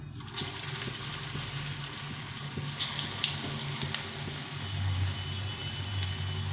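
Chana dal fritters frying in hot oil give a steady, even sizzle and hiss that stays at a constant level throughout, with no voices.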